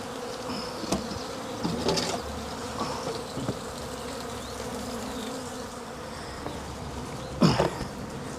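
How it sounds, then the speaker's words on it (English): Dense, steady buzzing of many honey bees flying around close by while a hive is closed up, a continuous insect drone with a few louder passes near the end. "Bees flying everywhere."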